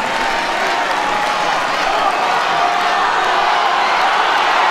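A crowd cheers and claps for a strongman lifter at a UK versus USA strength contest, a loud dense roar of applause and shouting held steady throughout.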